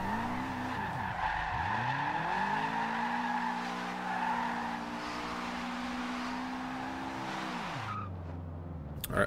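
A Subaru WRX STI drifting in Forza Horizon 2, with a sustained loud tire squeal over a revving engine whose pitch swoops up and down through long slides, close and continuous.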